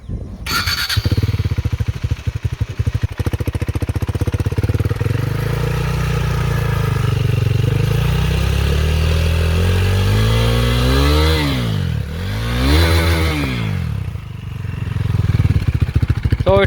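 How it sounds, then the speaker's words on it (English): KTM Duke motorcycle fitted with a Scorpion titanium exhaust and dB killer installed, started up and idling loudly up close, then revved in two rising-and-falling blips near the end. "So let me crank the engine first."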